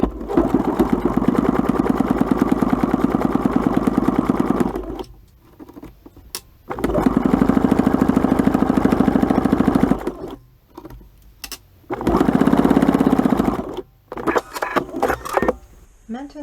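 A sewing machine runs in three long bursts, stitching bias binding along the edge of a three-layer fabric face mask, with short quiet pauses and small handling clicks between runs.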